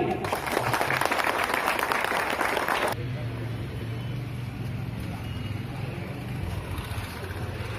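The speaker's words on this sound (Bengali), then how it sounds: "হাততালি" Applause at a shop's lucky-draw lottery for a scooter prize, a loud burst of crowd clapping for about three seconds that stops abruptly, leaving low background rumble and murmur.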